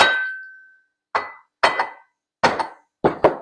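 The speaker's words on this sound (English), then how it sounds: "I do have my little rubber mallet here, and I'm just going to give it a little tap." A small rubber mallet strikes a Sunpumps pool pump part during bearing replacement, giving five or six sharp, close taps with brief ringing decays, the first ringing longest, spaced unevenly over a few seconds.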